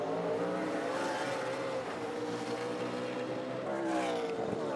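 NASCAR stock cars racing on the Roval road course, a loud sustained engine roar with shifting pitch as several cars pass close by, continuous throughout with no pause.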